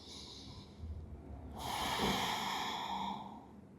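A deep breath drawn in during a relaxation exercise, lying face down with the forehead resting on a hand, a soft hissing inhale rising to a broad airy swell that holds for about two seconds, close and quiet.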